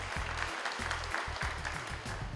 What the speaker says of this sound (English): So a round of applause for Mrs. Elizabeth Paisat.